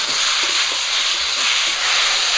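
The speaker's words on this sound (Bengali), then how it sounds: "সবগুলো মশলা দিয়ে একটু ভেজে নিয়েছি" Garlic, cumin, dried chili and mustard paste frying in a pan while rohu fish cooks, a steady close sizzle and hiss with faint stirring scrapes, no voices.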